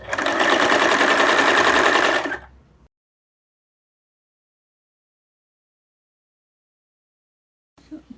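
A sewing machine stitches an apron made from an old kurti, a loud close whirring run of about two seconds that stops abruptly, followed by silence and a faint clatter at the end.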